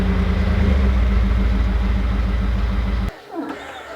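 A truck engine idles and rumbles steadily at close range while an RV trailer is positioned, then cuts off abruptly after about three seconds, leaving quieter background noise.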